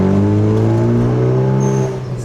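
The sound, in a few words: 2016 Kia Forte turbo on E85 revving, blow-off valve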